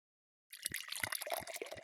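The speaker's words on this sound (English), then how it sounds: "The fish can squirt." A toy fish squirts water during a Daniel Tiger bath game, a quick run of splashy spurts and drips starting after a short silence, close and fairly soft.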